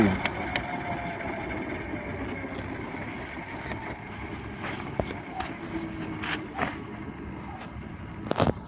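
A size 600 RC police helicopter's electric motor whines steadily close by, with the throttle briefly pushed up near the end and a few sharp clicks over the drone, no talking.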